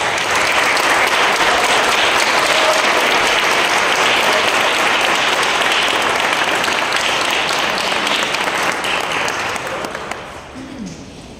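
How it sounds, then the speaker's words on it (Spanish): A hall crowd at a Nuevo León Heritage Day award ceremony in the Government Palace applauds a folk dance group's honoree with loud, dense, sustained clapping that holds steady for about ten seconds, then thins out and fades near the end. "Un fuerte aplauso, por favor."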